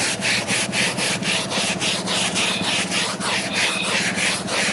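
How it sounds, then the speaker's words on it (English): Hand scrubbing of a stained car interior surface with a brush, a steady rapid back-and-forth scratching rhythm repeating about three times a second, close and loud, with no talking. "Now just scrub the shit out of it."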